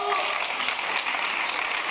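A studio audience at the Survivor Panorama TV show applauds in a dense, steady wash of clapping that holds evenly loud from start to finish, with voices faintly mixed in.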